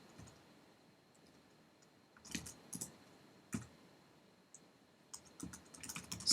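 Keys tapped on a computer keyboard during a Minecraft server session, quiet at first, then short clustered bursts of clicks with brief pauses between them, close and fairly soft, with no voices.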